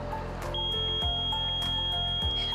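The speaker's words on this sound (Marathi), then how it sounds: "पहिली गोष्ट म्हणजे बझर वाजायला सुरू होतं आणि LED लाईट चमकायला सुरू होते" A panic-button buzzer on a women's safety bag sounds a steady, piercing electronic tone that holds continuously, loud and close, over a faint rhythmic background.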